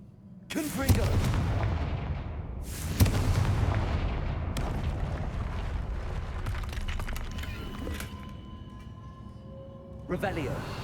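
Confringo blasting spell in Hogwarts Legacy blowing apart a barrier: a loud, close booming blast at the start, a second heavy explosion soon after, a long rumbling decay, then a final burst near the end.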